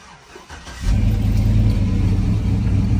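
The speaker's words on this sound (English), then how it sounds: "we're gonna fire it up" A cammed Chevrolet Silverado 4.8 V8 with a higher stall speed torque converter cranks briefly, catches, and settles into a loud, steady, lumpy idle rumble close by, with no voices.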